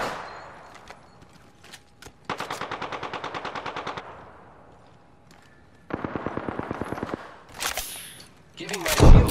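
Automatic gunfire in a battle royale video game: two long, evenly spaced bursts of rapid shots, loud and close, separated by quieter gaps with faint background effects and a sharp blast near the end.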